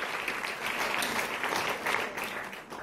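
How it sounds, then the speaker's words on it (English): A conference audience applauds with sustained, moderately distant clapping that swells and dips slightly as it continues, with no one speaking over it. "I think that's worth an applause."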